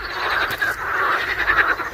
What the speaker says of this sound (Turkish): tek dezavantajı bu kurbağalar. Hiç susmuyorlar.